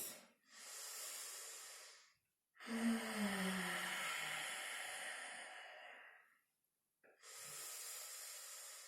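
Three slow, deep breaths exhaled through the nose during a breathing exercise, each a long, soft, airy hiss with short silent pauses between them, close and quiet.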